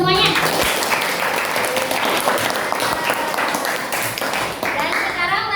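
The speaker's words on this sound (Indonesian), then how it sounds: "Tepuk tangan buat semuanya." Schoolchildren in a classroom give a continuous round of loud, dense clapping that lasts several seconds, with scattered young voices audible through the applause.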